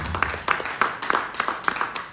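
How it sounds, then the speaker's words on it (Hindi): Seminar audience clapping for their parents in a series of sharp, uneven bursts of hand claps, moderately close, with faint voices underneath. "तो मैं चाहूंगा एक बार आप सब अपने माता पिता के लिए जबरदस्त तालियां बजाओ"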